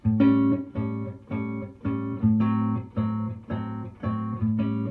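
A jazz blues guitar pulses chords over a sustained A bass note, played over the four chord, eight even rhythmic strums with a swinging feel, alone and clear.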